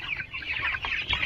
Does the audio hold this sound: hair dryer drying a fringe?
no